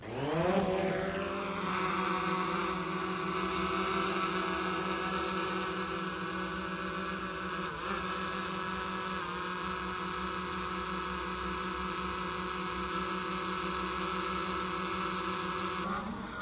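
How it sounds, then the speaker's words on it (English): Camera drone flying up over a house roof, its steady high-pitched propeller whine spinning up at the start and then holding loud and constant throughout, with no voices. "So I sent the drone up there"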